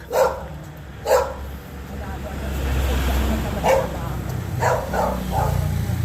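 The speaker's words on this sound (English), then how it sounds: "And a dog." A dog barks in the street beside old sari-sari stores and a hibachi shop, a few short woofs spaced across several seconds over steady traffic rumble and background talk.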